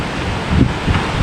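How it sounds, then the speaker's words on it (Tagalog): Strong typhoon wind roars and buffets the microphone in gusty surges, a loud rushing noise with a swelling peak midway and rustling debris, and no clear whistle. "Sumisipol yung hangin mga kabords."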